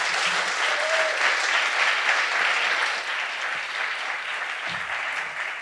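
Sustained applause from an audience at an international poetry evening, following a reading, steady and full for several seconds, tapering slightly toward the end.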